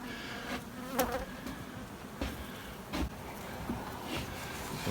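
Honey bees in an overcrowded observation hive make a faint, continuous buzzing hum with occasional louder passes and crackling bursts close by, no talking.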